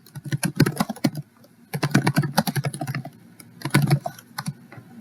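Typing on a computer keyboard nearby, clear bursts of quick key clicks in three runs separated by short pauses, with no talking.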